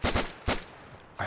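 Gunfire rings out in the World War II shooter Day of Infamy during a beach assault, with a quick pair of loud shots, a single shot, then another sharp shot at the end, all close and punchy with no talk.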